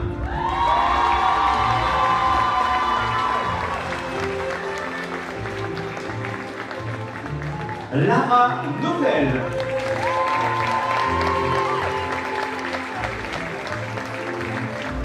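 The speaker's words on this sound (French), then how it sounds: "Vous pouvez les applaudir encore plus fort" A crowd at a French lace-queen pageant claps and cheers, with shouts and whoops rising over sustained applause and an announcer's voice naming contestants between the bursts.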